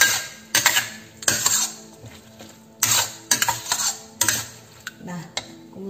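A utensil scrapes and clanks against a pan while stirring a seasoned Taiwanese-style Chinese pumpkin stir-fry with salt and flavouring, close and loud, in repeated strokes over a soft sizzle.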